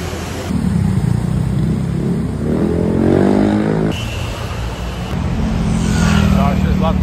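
A motorcycle rides along a city sidewalk in Bangkok, its engine humming steadily up close amid loud roadway traffic noise, while people talk over it.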